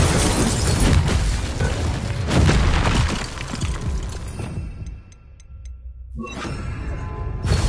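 Confringo and Incendio spells burst in Hogwarts Legacy as a dense run of loud, close booming blasts and crackles. A short lull with faint tinkling follows, then another blast hits.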